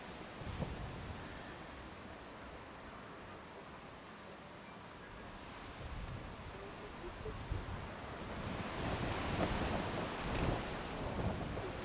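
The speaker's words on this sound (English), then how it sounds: "Conditions rather difficult, the wind is gusting." Gusting wind buffets the microphone outdoors at a lawn bowls tournament final, a continuous rumbling roar that swells and eases, strengthening toward the end.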